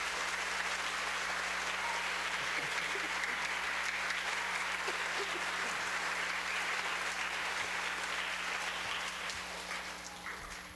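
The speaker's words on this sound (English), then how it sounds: "If we can give them all a round of applause." Audience applause at a school recognition ceremony for students, a sustained even roar of clapping from a sizable crowd that holds steady and then begins to fade near the end.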